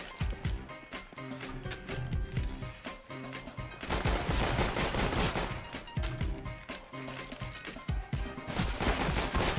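Rapid video-game gunfire rattles in dense bursts of automatic shots, loud and close, with a heavier sustained volley in the middle.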